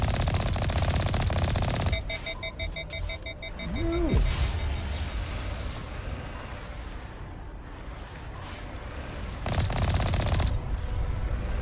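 Rapid automatic gunfire bursts in Mass Effect 1, loud rattling volleys at the start and again near the end, with electronic beeping tones and a rising-falling whine in between.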